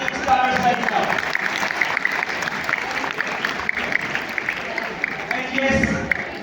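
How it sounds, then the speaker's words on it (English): A hall audience at a school prize ceremony in Lahore applauds students with sustained dense clapping, loud and steady, while a voice carries on in the background. "I would like to have a huge round of applause for these stars"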